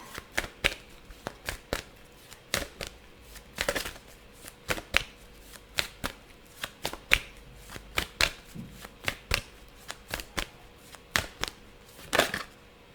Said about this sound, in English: Let's get one more card from this deck.